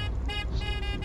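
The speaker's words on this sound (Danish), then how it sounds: "Hvordan er det nu, man dytter?" A car horn honks in the video game DayZ, several loud, closely spaced toots with brief gaps between them and no voices over them.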